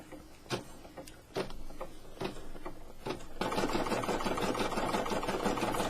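An embroidery sewing machine stitches a lamb key fob, starting with a few separate clicks and taps, then settling into a loud, steady, continuous mechanical whir.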